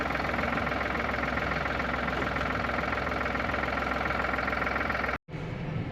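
A tractor engine idles close by in winter cold, a constant low rumble with a rapid knocking pulse, briefly cutting out near the end before resuming.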